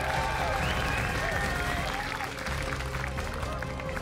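Esports crowd at IEM Katowice 2022 during a StarCraft II match, a steady dense wash of applause and cheering that fills the whole stretch, loud and continuous with a brief dip midway.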